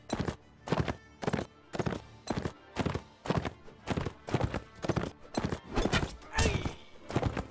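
A horse gallops in the Mount & Blade Warband video game, with steady, loud hoofbeats in a regular rhythm throughout and no voice over them.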